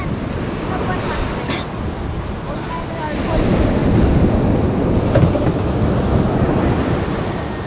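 Ocean waves surge and roar continuously, with heavy wind buffeting the microphone and a loud, churning wash that builds toward the middle.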